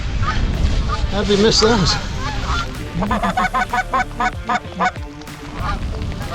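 A flock of geese honks loudly and close overhead as the birds fly in during a goose hunt, with rapid overlapping calls in bursts while a person speaks briefly among them.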